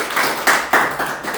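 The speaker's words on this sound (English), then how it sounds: "Let's give them a round of applause again." Brief clapping from an audience at a network marketing event, a few loud, rapid hand claps close to the microphone over a dense, roomy background.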